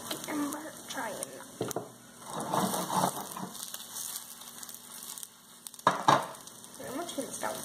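Eggs frying in a pan give a steady, soft sizzle with occasional scraping and stirring, while people talk over it throughout.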